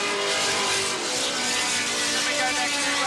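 Sports sedan race cars thunder around Wanneroo Park in a 1981 round, engines roaring at high revs in a dense, continuous blare of power that stays loud and close throughout.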